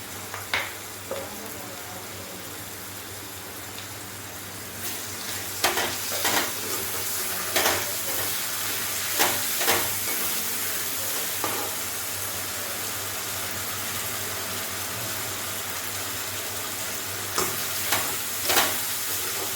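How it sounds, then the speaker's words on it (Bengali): Chilli chicken frying in a pan with tomato sauce just added sizzles steadily, with intermittent scraping stirs and clinks of a utensil against the pan. "প্রথমে আমি এখানে টমেটো সসটা দিয়ে দিলাম।"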